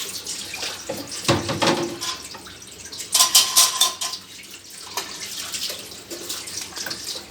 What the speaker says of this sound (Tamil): நான் வந்து இந்த மாதிரி டியூப் மாதிரி போட்டு தான் தண்ணி பிடிக்கிறேன்.